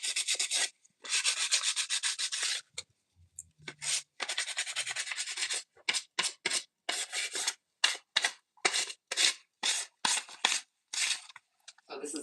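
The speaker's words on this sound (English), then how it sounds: "Just take your sandpaper and go ahead and do the doggone thing. Smooth it out as best as you can." Sandpaper rubs back and forth over a wooden piece being smoothed, first in long continuous strokes and then in quicker short bursts, close and clear with no talking.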